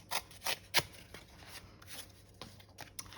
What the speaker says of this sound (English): So I'm just going to tear this.